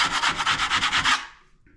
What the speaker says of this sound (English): all you got to do is really just scrape those down